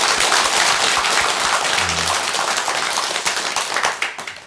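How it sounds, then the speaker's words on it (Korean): Audience clapping during a Buddhist temple Dharma assembly, a loud close burst of hand claps that thins and fades toward the end. "박수를 한번 쳐줬으면 좋겠습니다"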